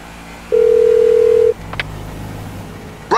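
Phone call placed on speakerphone in Grand Theft Auto V produces a steady one-second tone, followed by a low hum and a brief beep at the end, with no talking.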